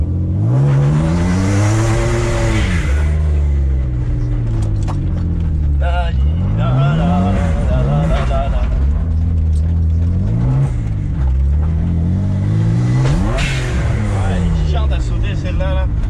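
A BMW 325i bi-turbo with a recently replaced turbo and blue exhaust smoke revs repeatedly. Loud rising and falling engine sweeps cover the whole stretch, and someone talks over them.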